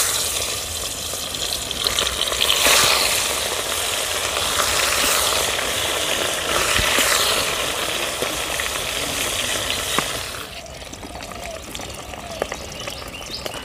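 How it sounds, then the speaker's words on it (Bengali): Koi fish frying in hot mustard oil in a wok, a loud broadband sizzle and hiss for about ten seconds that then drops to a quieter crackle, with no talking. "তেল গরম হয়ে গেছে, কড়াইতে দিয়ে দেব মাছগুলি"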